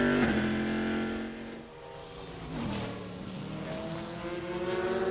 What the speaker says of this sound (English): let's just listen to the engine for a second.